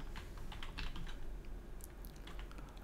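Rapid, irregular keystrokes clatter on a computer keyboard during a modded Minecraft session, close and fairly soft, with no talking.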